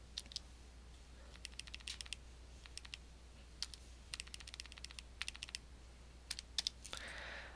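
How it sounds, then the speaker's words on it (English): A calculator keypad is tapped in a long, uneven run of light, close plastic key clicks, some single and some in quick clusters, over a steady low hum and ending in a short rustle. "if I go back to my calculator and I type in the number 4"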